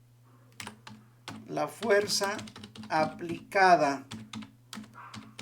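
Computer keyboard keys clicked in quick irregular bursts, crisp taps close to the microphone, while a person speaks throughout over a low steady hum.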